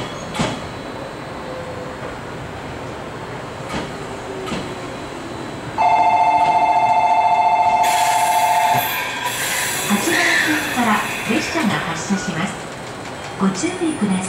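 Station ambience at Nagoya Station on the JR Chuo Line, an electric train rumbling and squealing as it pulls away, a steady electronic tone and bell ringing midway, and announcements echoing over a loudspeaker.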